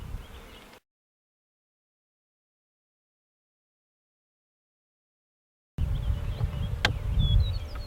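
Honeybees buzz around their hives outdoors, a hazy insect drone heard briefly at the start and again after a long silent gap, with a few closer passing buzzes.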